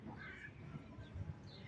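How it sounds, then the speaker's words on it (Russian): A crow caws from a branch on a seaside hillside at sunset, its calls faint and distant over a soft, steady outdoor background. "И ворона растрепанная на ветке."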